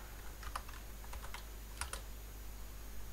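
Computer keyboard keys are typed while entering a Minecraft server permissions command, heard as a few quiet, close clicks in short bursts over faint background hum.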